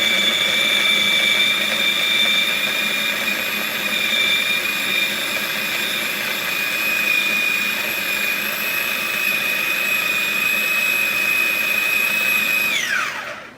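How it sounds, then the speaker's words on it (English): A food processor chops onion with a steady, high-pitched whirring motor hum that stays smooth and even for the whole stretch, then winds down sharply as it is switched off. "eventually the sound that the food processor makes is a smoother sound"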